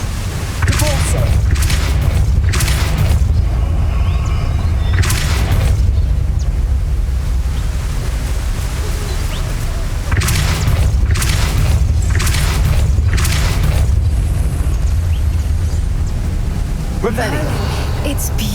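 Spell impacts in the Hogwarts Legacy PS5 game during San Bakar's Trial: repeated loud booming bursts, several spaced clusters over a deep continuous rumble, with spoken incantations.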